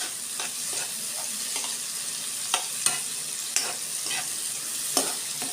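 Tomato, garlic and onion sautéing in a pan, a steady close frying hiss with occasional sharp spatula scrapes and taps at irregular intervals, no voices.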